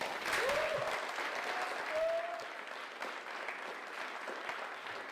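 Audience applause at a university leadership awards ceremony, a steady wash of clapping from a crowd that swells early and then holds level, with a brief whistle-like tone rising above it near the start.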